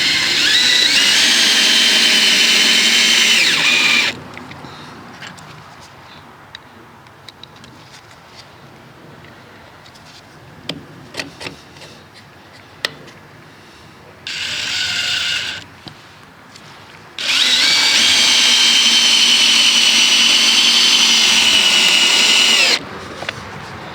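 A power drill drives fasteners to clamp a breaker box to a wall in three loud, close bursts of high whirring, separated by quieter stretches of handling clicks and taps.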